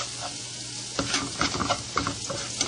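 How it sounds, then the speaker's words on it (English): Turmeric being stirred in a hot pan during home cooking, a soft continuous sizzle with repeated light scraping and tapping strokes of a spatula, close and fairly quiet. "Mixing my turmeric first."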